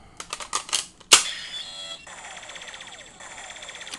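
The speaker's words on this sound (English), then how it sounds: "you get the Henshin waiting sound" Standby chime from a Kamen Rider Double Driver toy belt with a memory inserted: a few electronic beeps, a sharp click, then a bright looping synthetic tone that keeps cycling, clear and close with no talking.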